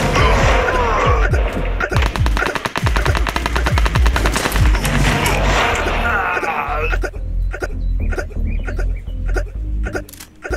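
Rapid bursts of automatic gunfire in the battle royale game Battlelands Royale, loud and sustained for several seconds, with dense shots and impacts, then thinning to scattered single reports near the end.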